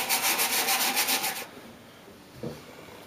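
Sandpaper rubs back and forth over a wooden rocking chair in quick rhythmic strokes for about a second and a half. A faint scuff follows, then quiet.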